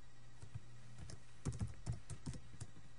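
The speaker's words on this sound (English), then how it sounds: "And then we need to type in the variable again" Close, quiet typing on a computer keyboard, a loose run of light key clicks that quickens into a denser cluster midway, with no voices.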